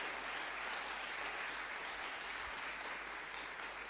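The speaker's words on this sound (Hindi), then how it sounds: "तालियां बजाएं और उसको धन्यवाद।" A church congregation applauds during a Hindi praise service, steady dense clapping at a moderate distance that fills the whole stretch without pause.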